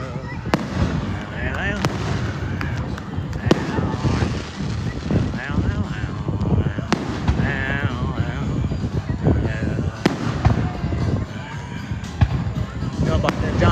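Fourth of July fireworks explode in repeated booms and cracks at an uneven pace, with people talking and music over the bangs throughout.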